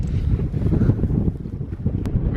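Wind gusting on a cold early morning on the fells, a loud low rumble buffeting close against the microphone, steady and without speech.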